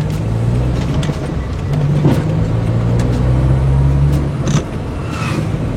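A Toyota Yaris T-Sport Cup car engine pulls away with a steady, loud low drone that swells slightly as it accelerates, heard from inside the cabin with no talk over it.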